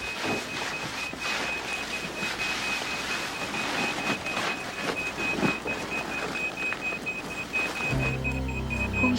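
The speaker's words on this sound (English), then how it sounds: "It's a contact alarm." A beeping contact alarm of the kind carried by ISI operatives sounds as a steady high electronic tone throughout, sitting over a busy background of scuffling and movement, with a low rumbling burst near the end.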